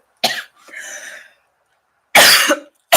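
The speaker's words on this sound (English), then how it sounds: "I'm having this cough" A person coming down with a bad cold coughs in two sharp, close bursts, the first one short and the second heavier, with a softer throaty sound between them.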